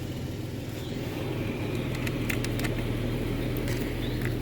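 A 2003–2009 Toyota 4Runner engine idles steadily in a close, continuous low rumble with a faint ticking patter on top, with no talk.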